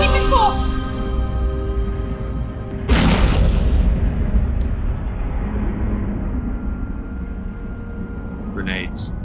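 A grenade explosion in the Stargate SG-1 episode The Serpent's Lair, aboard a ship: a sudden heavy boom cuts through a steady rumbling background and slowly fades, with people talking.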